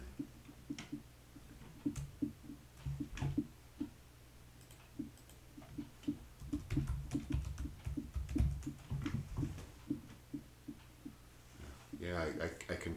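Light clicking keystrokes on a computer keyboard, a steady irregular patter of taps close by with a soft voice speaking over parts of it.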